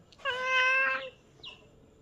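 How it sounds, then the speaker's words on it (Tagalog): A house cat gives one clear, close meow lasting under a second, then a shorter, softer chirp follows in an otherwise quiet room. "Itong pusa ko. Gusto rin kumain."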